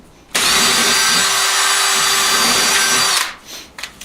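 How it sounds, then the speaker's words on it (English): A power drill whines loudly at high speed for about three seconds drilling holes in a wall for a TV bracket, then spins down, followed by a few brief scraping sounds. "I'm going to drill one on top and one on bottom"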